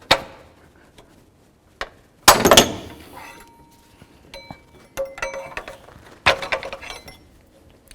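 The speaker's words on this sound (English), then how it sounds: "Now I'm going to use my pry bar." A pry bar works a pulley off the water pump of a 2004-08 Ford F-150, giving sharp metallic clanks, scrapes and ringing knocks in irregular bursts, close and loud between quiet gaps.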